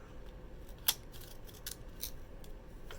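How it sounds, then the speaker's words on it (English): Scissors cutting thick paper for DIY Christmas gift tags, one crisp loud snip followed by several softer blade slices, close up over quiet background hiss. "it is the same pair of scissors that I was using."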